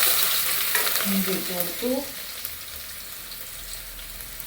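Ginger being stirred in a hot frying pan, with a sizzle and scraping stirs up close and a brief spoken phrase over it.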